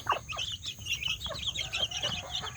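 A free-range village mother hen clucks softly and repeatedly beside her chicks, with their thin high peeps scattered throughout, close by and fairly quiet.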